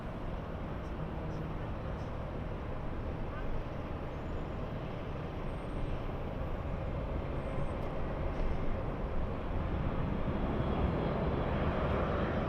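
An Embraer E175 jet airliner bound for Jackson, Wyoming at Los Angeles airport, heard as a steady, broad jet roar that holds evenly and swells slightly toward the end, with no voices.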